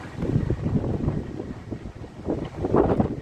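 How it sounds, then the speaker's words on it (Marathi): Strong gusting wind buffets the microphone during a sudden rain shower in Mumbai, rising and falling in rough low rumbles, close and fairly loud, with no speech. "बापरे किती वारा आहे."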